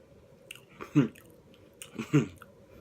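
Close, soft chewing of a cooked Pop-Tart with orange crust, two distinct bites and crunching bursts about a second apart, with quiet mouth sounds between them.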